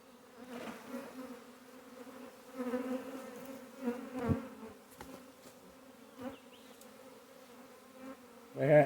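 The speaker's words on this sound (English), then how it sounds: "Not a lot of bees inside the box, so they're all out here" A honey bee swarm hanging outside a trap box buzzes in a steady close drone with tones that rise and fall as bees fly near, fairly faint, with a louder burst at the end.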